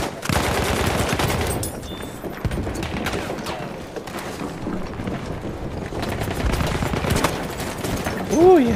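Dense gunfire in the video game Battlefield 1, rapid bursts and rattling shots mixed with rushing wind-like noise, loud and continuous throughout.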